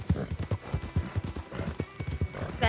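A ridden horse's hooves clip-clop in WildRP, a roleplay game, in a brisk, steady, close rhythm of many evenly spaced hoofbeats, with an occasional faint whinny-like sound and no talking.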